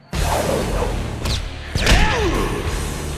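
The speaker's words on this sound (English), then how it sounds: "The force of this impact and that explosion sound." Heavy martial-arts impact in an anime tournament fight, a sharp thud and whoosh followed by a booming explosion-like blast with a ringing sweep, loud and close, no talking.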